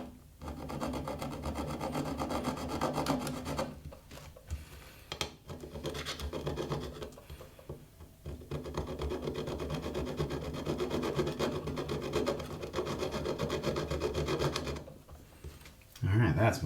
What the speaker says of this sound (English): A little bit of gentle filing.